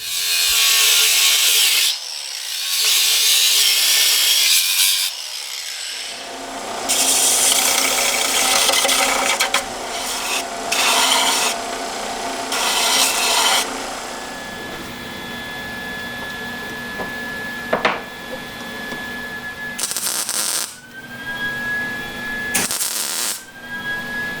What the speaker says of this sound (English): I'll clean this manifold off, get all that like grot, just nastiness off of it